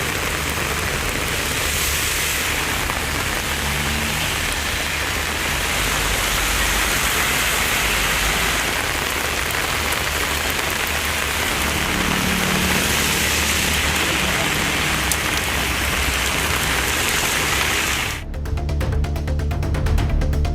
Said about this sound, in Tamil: நகரின் பல்வேறு பகுதிகளில் 1 மணி நேரத்திற்கும் மேலாக மிதமான மழை பெய்தது